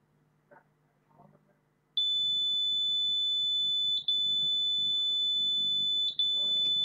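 Piezo buzzer on an Arduino driver drowsiness detector sounds a loud, steady high-pitched continuous tone in long bursts with brief gaps, starting after a quiet stretch, with faint talk underneath.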